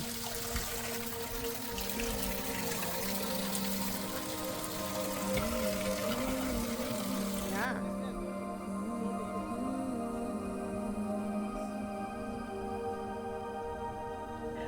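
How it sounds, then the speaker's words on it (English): Water runs continuously through ancient stone Inca ritual fountains in the Andes, a steady close splashing flow with no voices. "There are 4 ritual fountains or baths, which are still running water through them."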